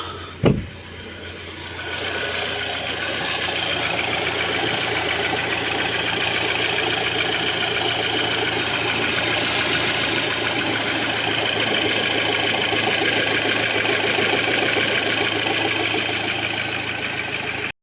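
An Audi A6 2.0 FSI engine idles roughly close by for a long stretch, a steady rumbling drone with an uneven, knocking pulse, preceded by a brief thump; its oil pressure warning light comes on.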